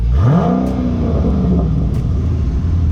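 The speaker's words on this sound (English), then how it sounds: "Give it a couple revs." A 2019 Scat Pack car engine revs up sharply, rising in pitch, then holds a loud, rumbling idle; close by and steady, with no voices.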